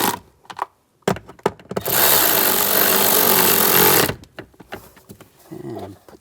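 Screws being driven down into the antenna base of a 2007-2013 Chevrolet Silverado, a loud steady whir of a few seconds' driving with brief clicks and handling knocks before and after.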